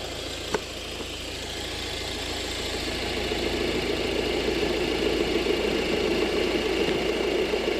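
A Volvo V50 1.6 diesel engine idles with a steady hum and a whirring, grinding mechanical whine from the alternator bearing, close and continuous, after a single brief click.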